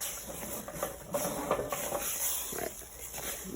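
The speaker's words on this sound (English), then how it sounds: "dump all of my flour at once, and then I'm gonna mix it right away." Flour being stirred into just-boiled water in a pot for choux paste, a close, soft, irregular scraping and slapping of a spoon through thick dough.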